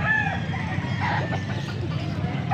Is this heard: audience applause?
no